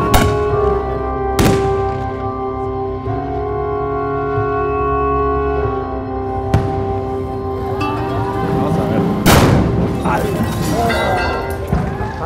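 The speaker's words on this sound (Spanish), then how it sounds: "las explosiones o las detonaciones se siguen escuchando" Explosive hammers detonate at the San Juan de la Vega festival: three sharp, loud blasts spaced several seconds apart cut through steady festive music and crowd noise.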